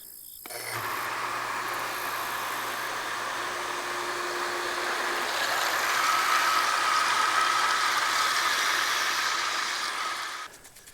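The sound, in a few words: solar-powered water pump running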